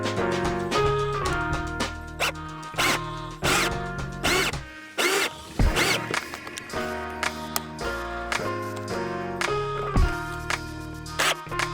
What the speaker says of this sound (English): I'm putting the screws to hold all this part.